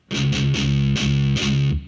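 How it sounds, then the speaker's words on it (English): A heavily distorted electric guitar chugs palm-muted on its open low string in a heavy metal riff, five or six tight, loud, percussive hits in quick rhythm. "I'm playing those open chunks on just the low string."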